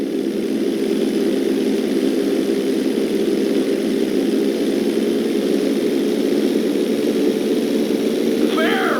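A propeller airplane's engine drones steadily and loudly throughout a set of barrel rolls in GTA 5, a continuous even roar with no breaks.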